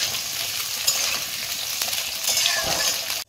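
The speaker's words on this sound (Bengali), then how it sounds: "ডাঁটাটা দিয়েও আমি ভেজে নেব একটু।" Bottle gourd stalks frying in a pan for a vegetarian Bengali gourd-greens dish, a steady close hissing sizzle with faint stirring scrapes, without talk.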